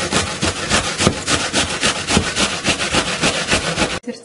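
A green apple is rubbed quickly across a metal grater in a kitchen, making a rapid, rhythmic rasping scrape. The strokes are close and loud with no talk, and they stop abruptly just before the end.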